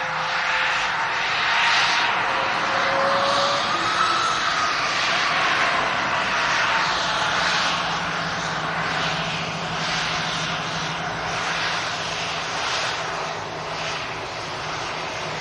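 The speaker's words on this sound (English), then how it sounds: "Quite a large executive jet, this." A large Gulfstream executive jet roars steadily and loudly at an airport, its engine noise constant and close with a faint whining tone drifting through it and no talk.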